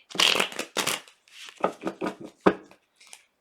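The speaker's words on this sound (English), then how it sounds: "So let's give it a good shuffle real quick." A deck of cards being riffled and shuffled several times in quick bursts, crisp papery flutters close to the listener, with pauses between.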